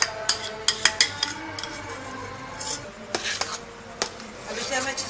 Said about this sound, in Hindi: अब हम ये मिक्स कर लेंगे व्हिप क्रीम में।